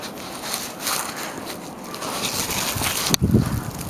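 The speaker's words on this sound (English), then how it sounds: "Listen to that wind." Wind during a heavy January snowstorm, gusting in broad rushing waves against the microphone, loud and close, ending in a sharp buffeting burst, with no voices.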